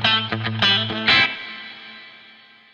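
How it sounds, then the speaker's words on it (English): Electric guitar played through a BOSS RV-500 with combined spring and plate reverb: a few strummed chords with a short, lightly distorted attack, then a drippy, shimmering tail that decays gradually into silence. "You can hear there I've got the drip from the spring, but I've got that beautiful sparkle from the plate reverb"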